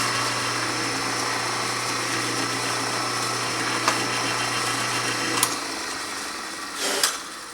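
A power drill bores a hole through a wooden desk drawer face plate for a knob, whirring steadily up close for several seconds before the motor stops, followed by a few brief knocks and clicks.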